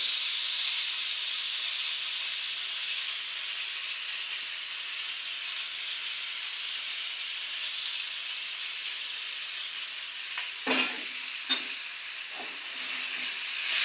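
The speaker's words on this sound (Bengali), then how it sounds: "এবার এটাকে ছাঁকা তেলে ভেজে নেওয়া হবে মোচাটাকে" Banana flower (mocha) deep-frying in hot oil, a steady soft hiss that holds for most of the time, then a couple of sharp clattering knocks near the end.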